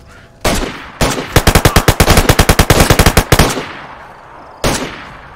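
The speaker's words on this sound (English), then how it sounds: "I'm gonna have to start popping AK shots off here." AK rifle fire in the video game DayZ: a single shot, then another, then a rapid sustained burst of about twenty sharp cracks, and one final shot after a pause.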